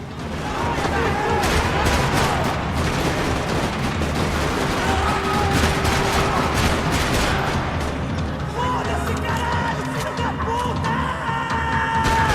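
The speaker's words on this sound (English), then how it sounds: "Another parking lot rattling with gunfire." Gunfire rattles through a parking lot in Max Payne 3, dense overlapping shots and bursts over a steady din with crashes mixed in, while a player talks over it.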